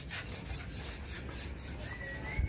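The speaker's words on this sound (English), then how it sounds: "He's just scraping off the surplus bits, so the painters don't go too mad when they have to smooth off that wall." Steady rasping scrape of surplus material being cleared off a garage wall on a house build site, a continuous rubbing texture with faint rhythmic strokes, fairly close, with no voices.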